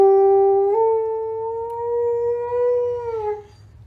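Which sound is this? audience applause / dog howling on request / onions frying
dog howling on request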